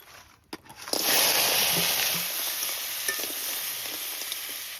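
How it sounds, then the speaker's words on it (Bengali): River crabs dropped into hot oil in a wok hiss into a strong, continuous sizzle after a second of quieter clatter, loud and close with no one speaking. "আর লবণ দিয়ে কাঁকড়া ভালো করে ভেজে নেব"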